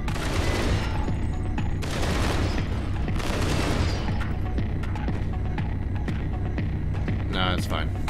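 Video game assault rifle fire keeps up a loud, steady battle din across the clip, with rapid overlapping shots, heavy booms and a low throbbing hum underneath.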